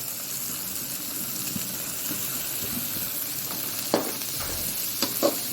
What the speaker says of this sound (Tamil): நறுக்கி வச்ச வெங்காயம் போட்டுக்கிறேன்